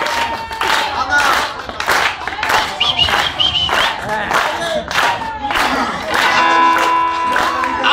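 A crowd claps hands in a steady rhythmic beat over lively music, the claps sharp and regular throughout.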